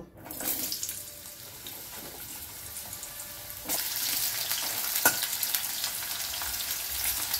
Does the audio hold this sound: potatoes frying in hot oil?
yes